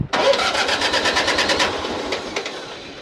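An engine cranks and catches after a vacuum hose was fitted as a makeshift fuel line, with a suspected bad fuel pump; it sputters and runs roughly for a couple of seconds, loud and close, with no talk.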